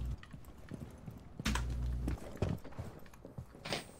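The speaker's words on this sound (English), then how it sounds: "I hear footsteps around me." Footsteps in the tactical shooter Rainbow Six Siege on Xbox One: a series of close, uneven thuds and scuffs with some heavier impacts, over a low game background.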